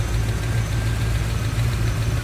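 A 1989 Chevrolet Corvette convertible's dressed-up engine, with polished intake and aftermarket valve covers, idles steadily with a low, even rumble that holds throughout, close and continuous with no talk over it.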